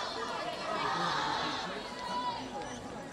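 Crowd chatter at a Queensland under 23s baseball game against China at Downey Park in Brisbane on a Friday night, a steady murmur of many voices spread around the stands.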